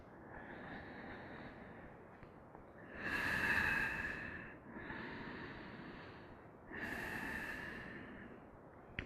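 Slow yoga breathing during a home yoga class held in a crescent lunge, steady breath sounds in a slow rhythm with two long, louder breaths standing out, close and with no talking.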